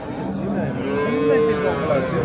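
A cow at a livestock market lets out a loud, close, drawn-out moo lasting a couple of seconds, with faint crowd noise behind it.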